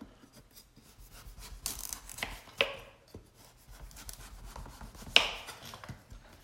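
Knife cutting vegetables for a Caribbean corn soup with yellow split peas, a few scraping strokes and one or two sharp blade knocks against a board, close and fairly quiet, with no talking.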